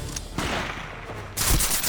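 Gunfire in the game Medal of Honor, set in Japanese-occupied Singapore: a few sharp close shots ring out, then a louder burst near the end.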